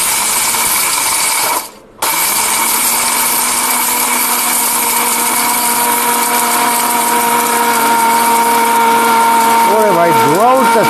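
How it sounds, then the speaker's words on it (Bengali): A 1600 W ball-bearing motor blender grinding stone runs loud and steady, with a high whine and harsh grinding noise. It cuts out briefly early on, then rises again and warbles near the end. "1600 ওয়াট ব্লেন্ডার ঠিক আছে কাজ দেখান"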